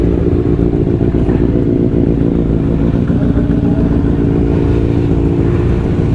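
A motorcycle engine warms up close by, its loud, steady idle chugging with a faint metallic clatter and no pauses.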